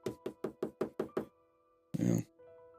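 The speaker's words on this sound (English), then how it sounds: "so I'm going to knock on wood." Seven crisp knocks on a wooden surface in a steady, evenly spaced rhythm, close and clear, followed by a short burst of louder noise and a faint hum.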